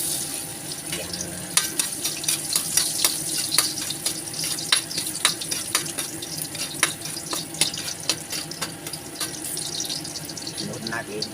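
Garlic drops into hot oil for a simple pork kaldereta, giving a continuous close sizzle broken by frequent sharp crackling pops over about eleven seconds.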